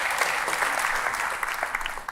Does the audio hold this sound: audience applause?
yes